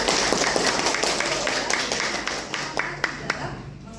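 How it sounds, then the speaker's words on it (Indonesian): An audience applauds at an Indonesian lecturer certification teaching session. Dense, steady clapping fills the room, then thins into scattered individual claps that fade out. "Beri tepuk tangan untuk"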